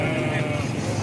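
A goat at a Lahore livestock market lets out a loud, continuous bleat close by, with crowd murmur and market bustle behind it.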